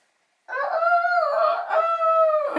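A rooster crows once, a long, loud, clear call close by, starting after a brief silence.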